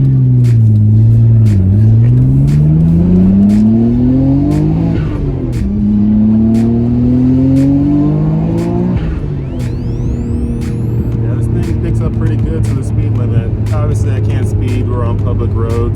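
A car accelerates hard on a public road, its exhaust rising in pitch through repeated gear pulls, loud and close, with a steady drone between shifts.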